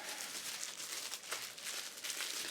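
A collectible box package torn open by hand without scissors, with continuous crinkling and ripping of cardboard and plastic wrap, close and steady throughout, no talking.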